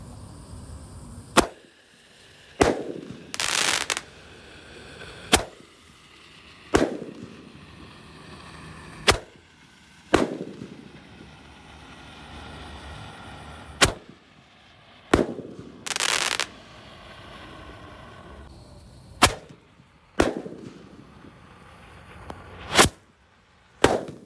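A 128-shot Roman candle firework, lit and firing outdoors, sends out a string of sharp individual shots at irregular intervals, each a crisp crack with a whooshing rise, separated by brief quiet gaps.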